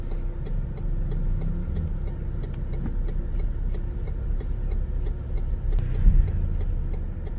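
An MG Gloster SUV rolls slowly with a steady low engine and road rumble during automatic parallel parking, joined by a regular, repeated ticking like an indicator or parking-sensor beat throughout.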